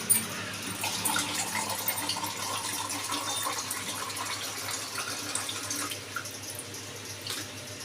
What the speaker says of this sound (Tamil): இப்போ வந்து 3/4 பங்கு தண்ணி போடணும் 2வது டைம்.